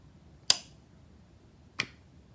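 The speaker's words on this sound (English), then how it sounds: "we should maybe hear the pump going" Pump on a nitrous-equipped, supercharged Postie motorbike squirting fuel, heard as two short sharp clicks about a second apart, faint and close in a quiet setting.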